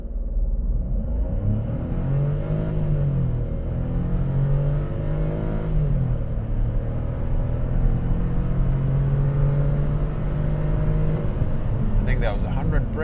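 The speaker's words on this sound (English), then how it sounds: "Floor it. Oh, it's building revs," A 2026 Kia Stonic with a 100 hp engine and seven-speed dual-clutch gearbox pulls hard at full throttle, its engine drone rising steadily in pitch under a constant cabin rumble, while a person talks over it.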